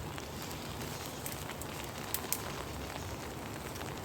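Rain pattering on a cheap camping tent, a soft continuous hiss of drops with a couple of slightly louder taps, faint and close, without speech.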